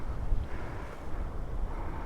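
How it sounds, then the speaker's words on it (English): Wind buffets a microphone in a steady, low, rumbling roar that swells and dips without pause on an off-road adventure bike ride in East Anglia; no one speaks. "it's so windy if I try and use my phone to record"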